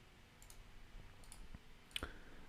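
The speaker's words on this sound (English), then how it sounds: "we can if I double click on it" A computer mouse double-click: two quick, light clicks in close succession, heard close up over a faint, quiet room background.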